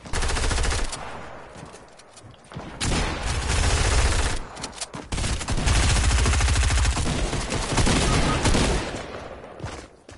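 Shotgun and other gunfire in a Fortnite battle, dense loud bursts of rapid shots and blasts filling the whole stretch with brief gaps, very close and intense.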